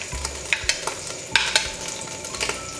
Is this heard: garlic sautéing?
yes